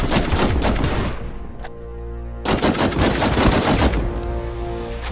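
Carbine fire in a video game: loud, close rapid bursts of automatic gunfire, a brief lull with a single shot and ringing tail, then another long sustained volley.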